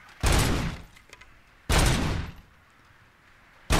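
Two heavy gunshot blasts ring out in the Robocop: Rogue City video game, each with a long booming decay, followed by the start of a third, loud and close with no voices.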